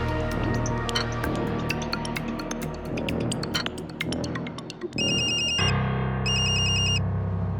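A mobile phone ringtone for an incoming call plays near and loud in two repeating bursts after a stretch of dramatic music.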